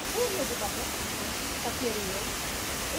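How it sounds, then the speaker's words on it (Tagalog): Waterfall running after rain, a steady broadband rush throughout, with people talking over it. "Itong falls na to, pag wala namang ulan, hindi daw to nakikitaan ng tubig."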